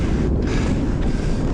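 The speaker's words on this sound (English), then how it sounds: "It's definitely windy" Strong wind buffeting the microphone in a continuous loud roar, with no voices, while skiing across a frozen Ptarmigan Lake in extreme cold around -30°C.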